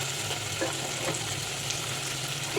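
Onions fry in a pan for sambar with a continuous even sizzle and soft crackle, close and steady throughout, with occasional faint stirring scrapes and no talk.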